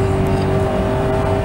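A Maserati Quattroporte Executive GT's 4.2 engine pulls hard as the car turns off a road, a loud, steady low drone with a sustained rising tone heard from inside the cabin.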